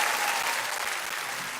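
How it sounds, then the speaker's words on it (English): Lively audience applause at a live Mother's Day special show, many hands clapping at once in a dense, sustained patter that holds steady and eases only slightly. "Round of applause for y'all."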